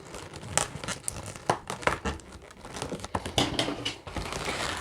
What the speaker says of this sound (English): again wrapping the neck and nozzle around a few times, snipping off the end, and then tying twice